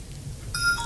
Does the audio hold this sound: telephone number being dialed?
yes